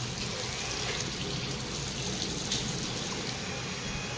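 Water runs steadily into a newly installed tank, a constant close rushing and trickling wash with no talk over it.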